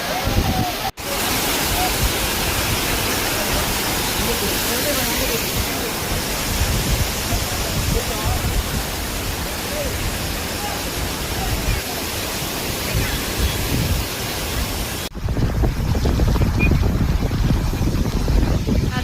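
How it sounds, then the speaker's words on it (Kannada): A waterfall at Chikkamagalur roars in a dense, steady broadband rush, loud and continuous from start to end, with brief cuts near the start and near the end. "ಇಲ್ಲಿ ಕಾಣಿಸ್ತಿದೆ ಅಲ್ಲ ಫಾಲ್ಸ್, ಹತ್ರ ಹೋಗಿ ತೋರಿಸ್ತೇನೆ"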